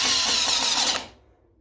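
A Masterforce hydraulic impact driver driving hot screws, a single steady high-pitched whirring burst about one second long that cuts off abruptly into near silence.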